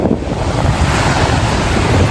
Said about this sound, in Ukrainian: Дивіться, таке море чистеньке